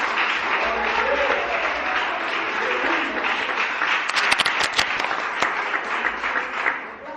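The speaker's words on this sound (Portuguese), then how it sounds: "Palmas para Jesus." A church congregation applauds steadily throughout, a dense, sustained wash of clapping, with a few sharper, louder claps near the middle and voices mixed faintly into the crowd.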